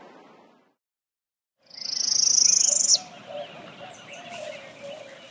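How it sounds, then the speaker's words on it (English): A golden-cheeked warbler sings a loud, high buzzy phrase in oak and juniper woodland of the Texas Hill Country, set against a constant chorus of insects and softer distant calls. "the habitat of the golden-cheeked warbler."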